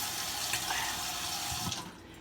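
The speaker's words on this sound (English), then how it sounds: "now I don't need to put as much water in" Water runs steadily into a pickle jar being readied for dyeing cross-stitch fabric, a continuous close splashing stream lasting the whole time with no talk.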